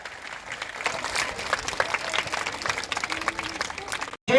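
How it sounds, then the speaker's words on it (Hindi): A school award ceremony audience breaks into loud, dense applause as officials are honoured with gifts, a steady roar of many hands that cuts off abruptly at the end. "एक बार जोरदार तालियां"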